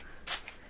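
One quick pump of a lavender and geranium sleep mist sprays onto a hand, a short, soft hissing burst in an otherwise quiet room.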